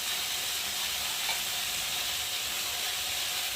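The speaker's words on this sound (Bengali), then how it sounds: "দেখো সবজিটা ভাজা ভাজাও হয়ে গেছে" Vegetables with slit green chillies fry in a pan, giving a close, even hiss of sizzling oil that runs unbroken from start to finish.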